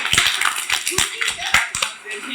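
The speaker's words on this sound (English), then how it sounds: "Let's give them a round of applause." A small group claps in distinct, uneven bursts of a few hands at close range at a live community talk event, with voices talking and cheering over the claps.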